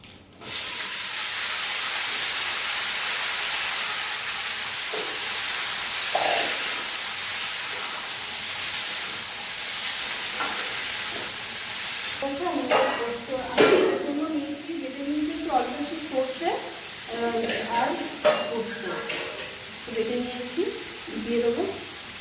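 Steady loud sizzling hiss of young jackfruit frying with chili tempering, with scraping and stirring clatter growing busier in the second half.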